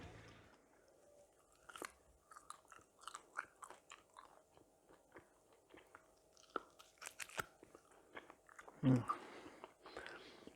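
Someone bites into and chews a piece of cooked tomahawk steak up close, with soft wet smacking and crunching sounds in an irregular rhythm, quiet throughout, ending in a brief breathy exhale.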